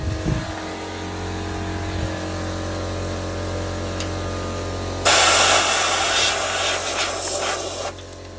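Compressed air blasts through a Toyota Hilux chassis rail to blow out rust, a loud steady hiss that suddenly bursts louder and harsher for about three seconds before cutting back, over a constant low hum.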